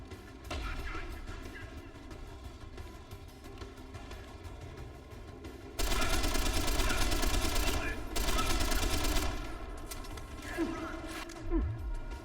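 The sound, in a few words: grenade launcher firing in video game Deus Ex: Human Revolution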